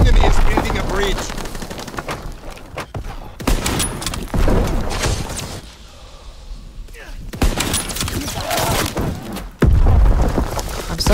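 Bursts of gunfire in Call of Duty WWII, loud rapid volleys and single shots with booming impacts, broken by a short lull, while a voice talks over the battle.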